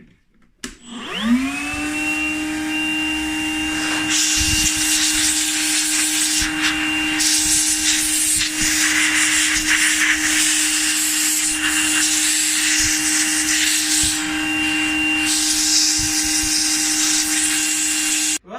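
A Makita 18V cordless vacuum cleaner motor spins up quickly and then runs at a steady, loud whine, with some rubbing and scraping noise over the top.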